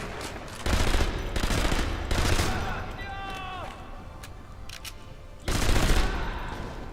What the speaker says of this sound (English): Got them with a good bit of the old Thompson SMG